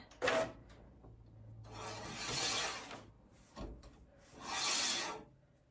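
Wet, freshly printed DTF film peeled and slid out of an InkSonic R1390 printer, giving a few broad rustling, rasping sweeps of plastic sheet with a sharp tap near the start, close and moderately loud with no talk.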